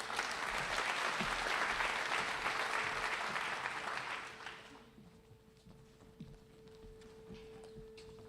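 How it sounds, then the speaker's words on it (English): An audience at a spring agricultural banquet applauds loudly for about four seconds before the clapping fades out, leaving a quiet room with a steady low hum and a few stray sounds. "Let's give Taylor a round of applause."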